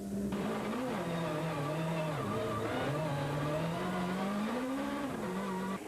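A two-wheel drive Peugeot rally car at a rallysprint at Mondello-style IMS Punchestown circuit, its engine droning steadily near and loud, pitch rising and falling through gear changes and revs, with tyre noise and no talk.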